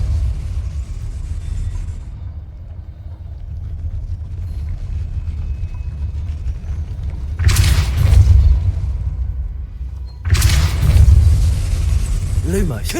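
Depulso spell effect in the video game Hogwarts Legacy: two loud whooshing blasts with deep booming rumble, each about two seconds long and a few seconds apart, over a constant low rumbling background.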